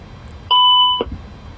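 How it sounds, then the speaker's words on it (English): A Boeing 737-800 cockpit warning beep sounds in Microsoft Flight Simulator during engine fire tests, as a single loud steady electronic tone lasting about half a second, followed by a soft click. "Those beeps are super loud out my speakers."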